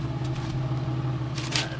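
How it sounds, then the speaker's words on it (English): A car with about 145,000 miles idles quietly after a cracked radiator was repaired, giving a low, steady hum with faint clicks and a brief rustle near the end. "And the car sounds so quiet."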